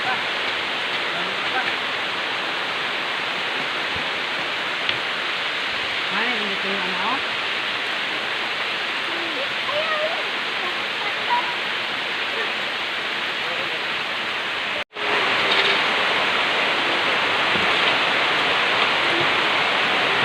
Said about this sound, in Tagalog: Shout out po sa malakas nating ulan ngayon.